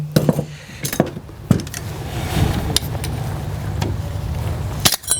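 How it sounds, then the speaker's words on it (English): An M249 machine gun is stripped down, with the heat shield, gas regulator and barrel pulled off. Metal parts clack and clink in sharp separate knocks, with handling noise and a low background hum between them. "Remove the heat shield, gas regulator,"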